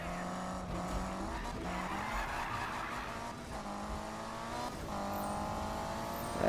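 Engines roar steadily and tires squeal through skids as cars race in Need for Speed, a continuous loud rush of motor drone with rising screeches and a faint voice underneath.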